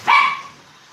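A single sharp dog bark, loud and close, cut off quickly with a short fading tail, from one of a household's small dogs such as a wire-haired terrier or chihuahua.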